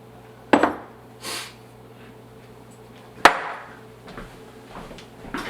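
Two large eggs crack into a bowl of fluffy cookie dough: two sharp, close knocks a few seconds apart, each followed by a brief wet spill, in an otherwise quiet kitchen.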